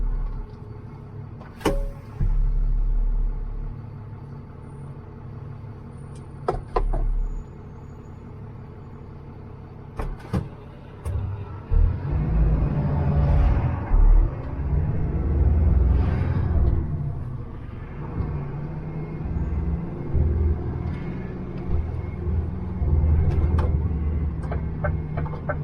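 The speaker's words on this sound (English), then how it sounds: "clunking gears when I'm dropping it back down to the lower gears" Heavy truck driving around South Shields with the driver dropping down to lower gears, clunks and knocks from the gearbox over a steady engine rumble that builds louder midway, with occasional sharp mechanical clicks near the start.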